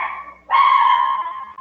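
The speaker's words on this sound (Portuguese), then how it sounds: "Tem mais algum cachorro, como o meu, é um cachorro doido." A dog gives two drawn-out, whiny barking yelps, the second louder and longer, close by with no talk.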